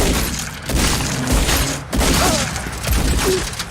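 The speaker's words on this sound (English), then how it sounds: "Those gunshots are loud." A burst of several loud gunshots in quick succession, with sharp cracks and booming echoes, from a shootout in the 1995 film Heat, without any talking.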